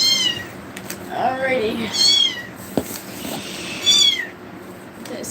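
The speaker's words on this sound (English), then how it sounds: "I don't know why those kittens are so loud" Domestic kittens meow loudly several times, rising and falling cries close by, while a person speaks briefly between them.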